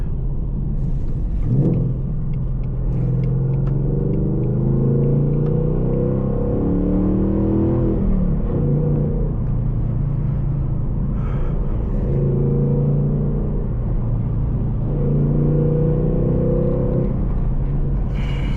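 A 2019 Ford Mustang GT driving in the rain, heard from inside as a steady rumble broken by several surges of acceleration that climb in pitch and then ease off, with no talking.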